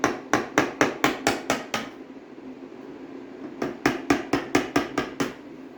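A small hammer taps a flathead screwdriver to pry out seat clips on a 1970-72 Triumph TR6, in two quick bursts of about seven sharp, evenly spaced metallic strikes, separated by a short pause, close up.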